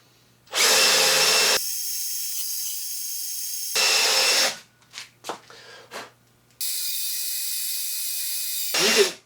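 A power drill spins fast with a cheap, uneven bit, whining loudly in two long bursts with a shorter one near the end. Scattered clicks and rattles fill the quieter gap between them.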